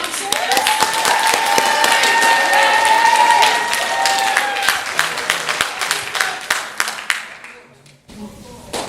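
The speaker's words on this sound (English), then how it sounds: "Round of applause for our February announcers." A school audience claps for the February morning announcers at Telstar Middle School, dense steady applause for about seven seconds that thins and fades out near the end, with a voice starting to speak afterward.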